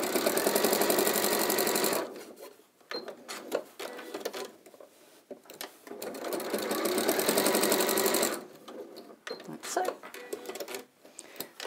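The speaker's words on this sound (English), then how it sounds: "I'll just sew across those to hold them in place." Sewing machine stitching across fabric to hold panels near the edge, loud rapid mechanical whirring in two long bursts of about two and six seconds, separated by quieter pauses with handling and someone talking.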